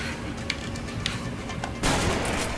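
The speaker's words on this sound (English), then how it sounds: "Oh, I still got my shotgun now." A single loud shotgun blast goes off in the video game Deadlight, a sudden close burst that cuts through a dim background of ambient game noise after a couple of faint knocks.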